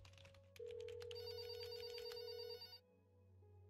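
An old-style telephone bell rings in the game There Is No Game, a steady electronic trill that starts after a short pause, holds for about two seconds, then cuts off and leaves a low hum.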